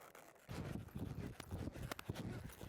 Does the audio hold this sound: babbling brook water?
no